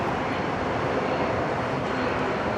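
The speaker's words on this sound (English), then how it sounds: "Runway 34 left, cleared for immediate takeoff." Jet airliner taking off from runway 34 left at Sydney Airport, a steady, loud broadband engine roar throughout with no distinct breaks, heard from a distance.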